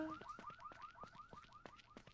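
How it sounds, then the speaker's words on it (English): A car alarm blares in a survival video game, a rapid repeating chirping warble cycling about nine times, steady and fairly quiet with no talk over it. "Okay, the alarm has stopped."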